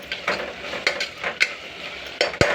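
Ginger garlic paste frying in a pan, a steady sizzle broken by scraping stirs of a spoon against the metal, with a few sharper clinks near the end.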